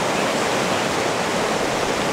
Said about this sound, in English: We've gone a bit further up the river. The flow is just insane